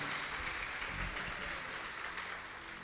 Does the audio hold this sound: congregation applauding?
yes